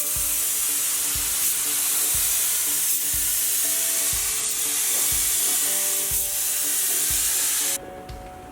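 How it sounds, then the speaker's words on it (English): A spray gun lays clear coat onto a car fender in a steady, loud hiss that runs unbroken for several seconds, then drops away near the end. "the fender's ready now to have some clear put on it."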